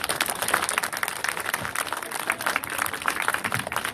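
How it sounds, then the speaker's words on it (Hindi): Applause from an audience at a school event, dense and continuous clapping from many people, fairly loud and close, with crowd murmur underneath and no talk over it. "ताली बजाएं।"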